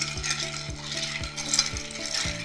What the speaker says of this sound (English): I'm gonna be quiet for 1 second so you don't hear me over top of the ice.